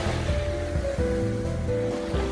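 Sea waves break on Sokcho beach, a continuous loud wash of surf with rolling surges, close and unbroken across the short stretch.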